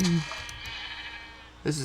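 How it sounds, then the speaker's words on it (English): Sheep bleating in a PS Vita video game: a close, wavering bleat at the start and another at the end, with a faint tonal game backdrop between them. "the sheep kind of sang in harmony"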